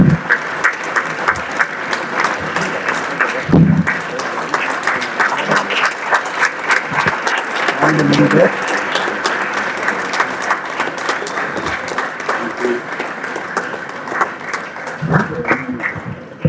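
Sustained audience applause fills a political rally in Chennai for a Central Chennai candidate, dense steady clapping throughout with a few brief voices and shouts rising above it.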